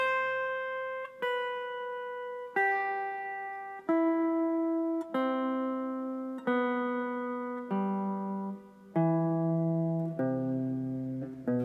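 Guitar plays an expanded pentatonic arpeggio shape one note at a time, about ten clean plucked notes stepping downward in pitch, each ringing and decaying before the next, close and alone.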